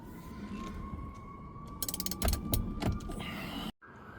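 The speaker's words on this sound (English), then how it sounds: "I'm gonna be using my breaker bar to take it off." A breaker bar cracks loose the 19 mm nut on a locked steering wheel, giving a burst of mechanical clicks and a sharp creaking snap partway through, close and fairly loud, then a sudden cutoff.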